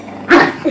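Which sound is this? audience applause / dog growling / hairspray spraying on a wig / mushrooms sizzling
dog growling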